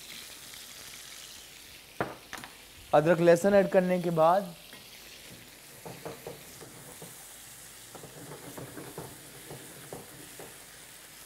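Tomatoes with ginger and garlic fry in a pan, a soft steady sizzle with brief stirring scrapes. A voice speaks clearly over it for a moment early on, then the cooking noise carries on quietly by itself.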